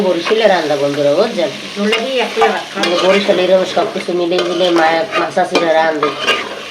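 Potatoes, flat beans and shrimp stir-fry in spiced oil in a pan, with close, steady sizzling and scraping stirs, and a voice is heard alongside.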